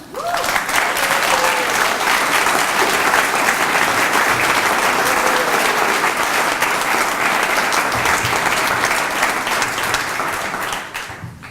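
An audience applauds at a benefit poetry reading after an introduction, a dense and loud wash of clapping that holds steady for about ten seconds and then tapers off near the end.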